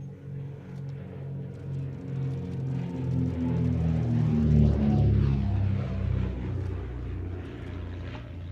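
The Comet racing aircraft, fitted with twin 210 horsepower de Havilland Gipsy Six engines, flies past at the Shuttleworth air show with a steady droning propeller roar that swells in pitch and loudness as it nears, then eases away.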